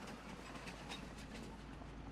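A rented train pulls away in Farming Simulator 25, its steady rolling rumble and faint clickety-clack of wagons continuing at an even level throughout, with no talking over it.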